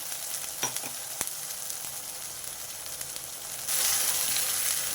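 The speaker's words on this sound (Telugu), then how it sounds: "ముందుగా పట్టు పెట్టుకున్న మసాలా పేస్ట్ వేసేస్తున్నాం ఈ ఆయిల్లో మసాలా పేస్ట్ కొంచెం వేగాలి" Masala paste frying in oil in a pan for a jackfruit seed curry, a steady close sizzle with a few stirring clicks, the hiss swelling louder near the end.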